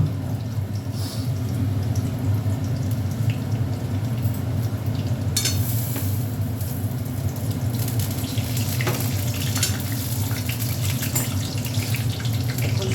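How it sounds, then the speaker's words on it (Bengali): Mustard seeds, dried red chillies and nigella seeds tempering in hot oil, giving a continuous close sizzle with scattered sharp pops and crackles over a low background hum. "দেখো এখানে সর্ষে শুকনো লঙ্কা ফোড়ন দিয়ে দিলাম, আর একটু কালো জিরে ফোড়ন দিয়ে দিলাম।"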